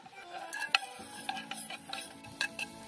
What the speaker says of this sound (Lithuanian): Dedame svogūnus.